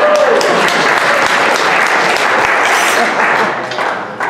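An audience at a skeptics' camp talk applauds loudly and continuously after a spoon-bending demonstration, a dense wash of clapping that fades slightly toward the end.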